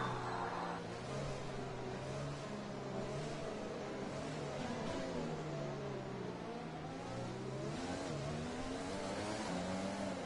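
F1 cars in a racing video game drive down a China circuit straightaway, several engines droning and rising in pitch together, a steady loud layered whine with overlapping revs and no gaps.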